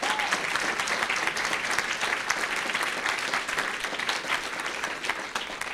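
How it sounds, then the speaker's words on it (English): A seminar audience gives a loud, sustained round of applause, thick continuous clapping that stays even and full from start to finish. "let's give this family an amazing round of applause"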